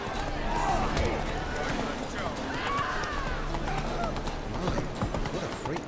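Roach the horse clip-clopping along in The Witcher 3, steady hoof beats in a trotting rhythm under game ambience and speech.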